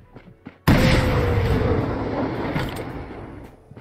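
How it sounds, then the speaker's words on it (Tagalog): A sudden loud boom of fireworks over a tower in a video game bursts after a moment of quiet, then a long rumbling roar slowly fades, with faint crackles. "May fireworks sa tower."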